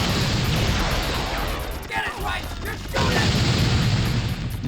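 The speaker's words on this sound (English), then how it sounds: "I can't quite get over just how many explosions there are" Dense, continuous explosions and booming blasts from the arcade-style video game Apocalypse fill the clip loudly, with a brief dip midway before the barrage resumes.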